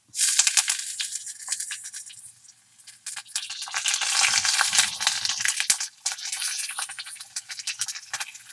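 Loud crackling sizzle as chopped ginger and split chillies hit hot oil, bursts of spattering and scraping that swell and ease, then flare up again.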